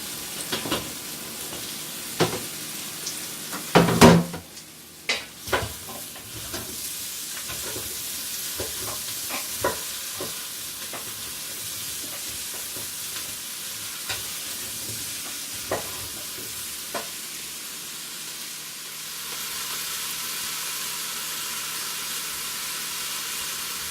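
Onions and garlic sautéing in a pan, a steady soft sizzle with scattered clinks and scrapes of stirring, a louder clatter early on, and no talk.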